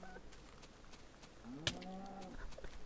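A cow in the Minecraft video game moos once, a short low bellow standing out over faint background game noise and light clicks, fairly quiet overall.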